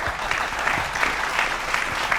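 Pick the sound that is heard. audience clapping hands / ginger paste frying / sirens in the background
audience clapping hands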